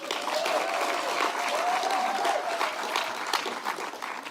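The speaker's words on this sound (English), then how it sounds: "Clap for Amos!" A crowd at a launch celebration claps for someone, loud and steady applause with a few whoops and cheers mixed in, close and full throughout.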